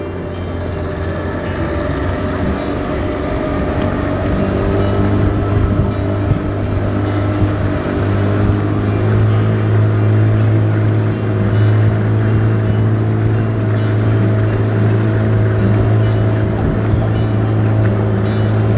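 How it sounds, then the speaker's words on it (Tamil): A motorboat ferries passengers on the water at Wadi Shab in Oman, its engine a steady, loud, continuous drone with wind and water rush throughout and no pauses. "ஸோ இப்போ நம்ம போட் ரெடி ஆனதுக்கப்புறம் நம்ம கிளம்பலாம்."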